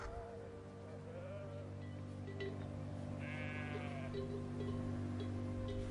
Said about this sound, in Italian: In questo pascolo ci sono 300 pecore.